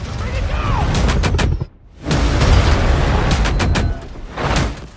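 Dense gunfire and explosive blasts from a next-gen shooter video game with collapsing skyscrapers and flying debris, a loud, continuous barrage of shots and booms that drops out briefly before resuming at full intensity.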